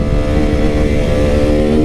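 A motorcycle engine runs loud and close with a deep, throbbing low-end rumble, holding a steady rev for about two seconds with no voices.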